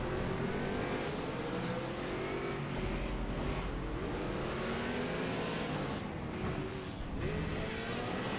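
Race cars in Project CARS roar off the line at the start of a race, engines revving hard and steady as the pack accelerates together, loud and continuous throughout.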